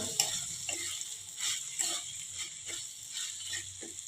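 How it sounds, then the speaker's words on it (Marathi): Tomatoes frying in oil with salt are stirred in a pan, giving a soft sizzle under a series of regular scraping strokes, fairly quiet and without speech. "मीठ घालून चांगलं परतून घेऊया"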